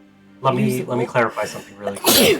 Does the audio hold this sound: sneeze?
yes